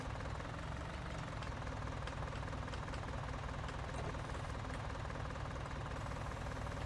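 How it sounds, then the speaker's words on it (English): Tractor engine in the Farming Simulator 19 video game, working at a farm, a steady low rumbling drone with a knocking, idling quality that holds evenly throughout with no talk. "This is probably not the best tractor to be doing this with."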